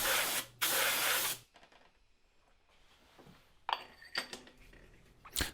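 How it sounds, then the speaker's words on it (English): Compressed air hisses into the spark plug tubes of a petrol Honda CR-V with a 2.0-litre K20 engine: two loud, close blasts split by a brief gap, then quieter spurts and a few sharper bursts near the end. "we can use compressed air to blow down and clear out any debris in the tubes"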